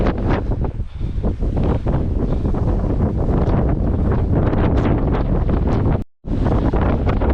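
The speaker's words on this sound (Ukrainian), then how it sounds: "Просто шалений вітер" Very strong mountain wind in the Ukrainian Carpathians, a loud continuous roar buffeting the microphone with gusty surges, cutting out for a moment before resuming at full force.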